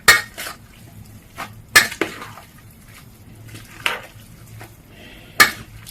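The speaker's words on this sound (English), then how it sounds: "I'm going to use 2 spoons to mix this up properly" Two spoons mixing pasta in a pan, sparse metallic clinks and scrapes against the pan every second or so, close and sharp over a faint steady background.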